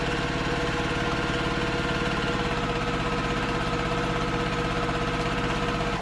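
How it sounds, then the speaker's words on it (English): A sewing machine stitches a quarter-inch seam through fabric for party bunting flags, a steady, continuous mechanical whir with a fast even rhythm, close and loud throughout with no pauses. "then you're going to sew that seam down"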